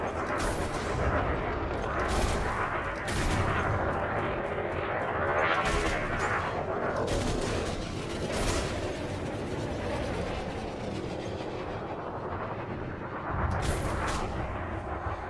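Repeated heavy blasts of shock cannons firing from a Kestrel spacecraft in the space combat game Elite Dangerous, booming in bursts over a continuous thick rumble, with someone talking over the gunfire.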